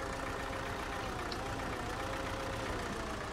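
Excavator EO-3323 in the Spin Tires driving game, its engine running at a steady idle-like drone while the boom is operated, a continuous mechanical rumble with no voices.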